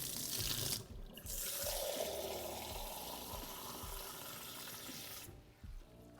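Tap water pours into a kitchen sink in a steady, close hiss. It stops briefly early on, then runs continuously for several seconds before cutting off.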